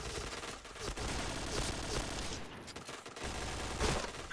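Sustained automatic gunfire from the online shooter Point Blank, with rapid overlapping bursts and shots rattling almost continuously and fairly loud, with no voices over them.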